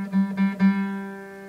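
Guitar strings plucked one after another, about three notes in quick succession with one string left open, then ringing on and slowly fading, close and alone.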